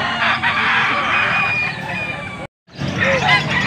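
A rooster crows loudly and close at a busy outdoor poultry market in Angeles, Pampanga, with chatter and crowd noise around it, a short break, then more market bustle.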